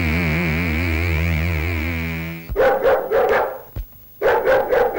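A dog barks on a street in several sharp, loud, close barks following a stretch of music, then a short pause and another burst of barking.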